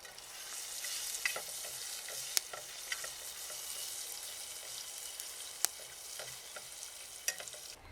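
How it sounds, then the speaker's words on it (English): Pancake batter crackles and sizzles steadily in hot melted pork fatback for medieval crispelli, a dense close frying hiss with a few sharp pops, and no voices. "We melt the pork fatback, then add 1 ladle of the batter."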